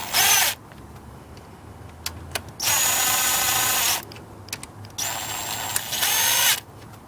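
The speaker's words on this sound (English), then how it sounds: "right now, I'm just kind of trying to get these bolts screwed in very carefully." A power tool drives bolts into a Galant VR4 engine in three loud bursts of high whirring, separated by quieter gaps with small clicks and knocks.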